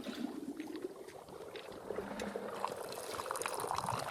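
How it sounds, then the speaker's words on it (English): Tea pours into a cup in the game Wanderstop, a faint, soft trickle of liquid that runs steadily and quietly throughout with no talking. "So let's pour a cup."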